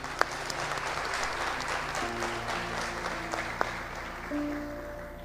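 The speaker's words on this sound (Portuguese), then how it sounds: "Dê uma salva de palmas para Jesus." A church congregation claps steadily through the whole stretch, a dense, even wash of applause that stays close and loud, with a few sharper claps and sustained tones standing out in the background.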